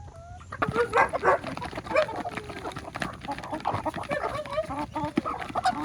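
Backyard chickens, just released through an automatic coop door, cluck and squawk loudly and continuously close by, with a voice now and then and a possible dog bark in the mix.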